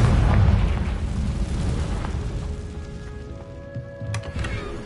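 A Confringo blasting spell goes off in Hogwarts Legacy, a loud booming explosion that rumbles and decays over several seconds, with magical chimes and a bright crackle near the end.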